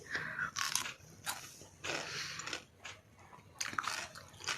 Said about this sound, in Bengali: এখন বসে বসে স্যালাডগুলো খেয়ে নিই